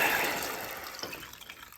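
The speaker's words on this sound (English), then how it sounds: "So we're going to add the water in." Water poured into a cooking pot to make polenta, a brief splashing pour that starts strong and tapers off, heard alone.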